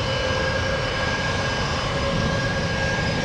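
A jet airliner takes off from runway 1 right at Tampa International, its engines roaring in a loud, steady broadband rush with high whining tones, continuous and close throughout with no talking.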